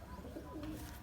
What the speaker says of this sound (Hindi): और ये प्योर पट्टी वाला कबूतर है जी।